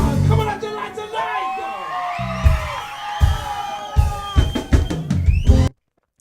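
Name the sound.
crowd cheering at a live reggae band recording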